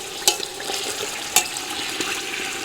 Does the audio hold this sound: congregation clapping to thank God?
no